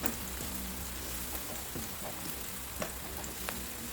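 Onion and garlic sautéing in a pan for chicken adobo with coconut milk, a steady soft sizzle with faint crackles and pops throughout, no voices.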